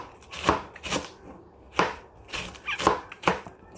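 Knife chopping ingredients thin on a board for Mexican posole, with about six sharp, irregular cuts close by and no voice over them.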